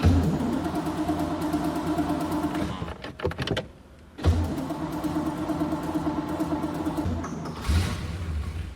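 1967 Corvette V8 running with a bad exhaust leak, a loud raspy engine drone with puttering exhaust, dropping briefly in the middle before surging back, heard close with no talk.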